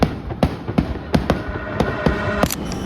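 Hanabi fireworks at a display in Osaka, Japan pop and crackle in a steady run of sharp bursts, each one a short bang, heard from a moderate distance over crowd ambience.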